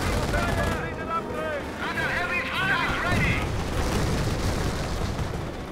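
Heavy gunfire from a flak panzer in the Company of Heroes strategy game: rapid crackling shots and booms mixed with battle noise, with someone talking over it.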